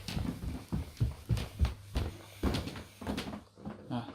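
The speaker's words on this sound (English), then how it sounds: "Sorry about the stairs, they're creaky." Creaky wooden stairs thud and groan under footsteps climbing upstairs, about eight evenly spaced steps, close and moderately loud with no talking.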